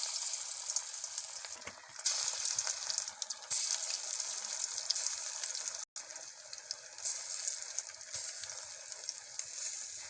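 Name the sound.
masoor dal fritters frying in hot oil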